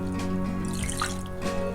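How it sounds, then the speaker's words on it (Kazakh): Water trickles and splashes into flour while samsa dough is mixed by hand, a soft continuous pour close by over a steady low background hum. "Көп су құю"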